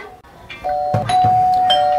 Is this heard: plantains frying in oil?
no